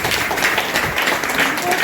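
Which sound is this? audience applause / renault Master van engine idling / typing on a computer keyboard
audience applause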